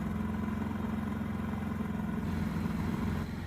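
A portable generator runs in eco mode with its exhaust turned away, giving a steady, even mid-pitched engine hum that stays constant and fairly close throughout, with no talk.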